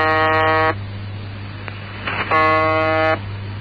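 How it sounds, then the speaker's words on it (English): Russian shortwave station known as the Buzzer, broadcasting around the clock from a Moscow suburb: two loud, harsh, flat buzz bursts separated by static, with a steady low drone running beneath. "this station, known simply as the Buzzer, which broadcasts around the clock from a Moscow suburb"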